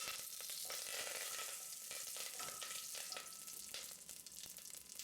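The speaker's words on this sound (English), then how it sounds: "Once the oil is heated, adding a teaspoon of mustard seeds, a teaspoon of cumin seeds and few curry leaves." Mustard seeds, cumin seeds and curry leaves hit hot oil in a pan, a loud, bright crackling sizzle with popping spatters that holds steady and eases slightly toward the end, no voices.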